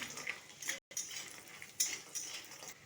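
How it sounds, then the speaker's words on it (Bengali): Bori lentil dumplings fry in oil in a wok with a soft, steady sizzle, broken by a brief gap and a few clinks of a utensil against the pan, heard up close. "লাল লাল করে একটু বড়িটাকে ভেজে নেব।"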